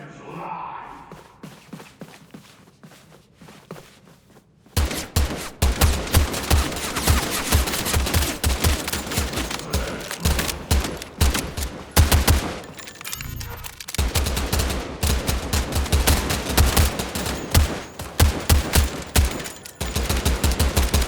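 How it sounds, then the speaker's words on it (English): Rapid gunfire in the video game Blindfire, sustained loud bursts of dense, rattling shots that start abruptly after a quiet opening and continue with brief pauses, with a few breaths and gasps in between. "Not a lot of bullets fit in this gun."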